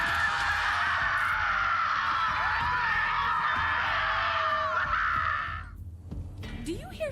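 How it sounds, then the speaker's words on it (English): Screaming in the video game Borderlands 3: a loud, sustained, harsh shrieking cry lasting about five seconds, then cutting off and leaving faint background game sound. "Do you hear screaming, or am I having another one of my episodes?"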